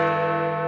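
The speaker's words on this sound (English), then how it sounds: "the Clock Tower, but widely referred to by the nickname given to the Great Bell," The Great Bell of Elizabeth Tower at Westminster, known as Big Ben, rings with a loud, sustained, richly harmonic tone that hums steadily and slowly decays, with no voices present.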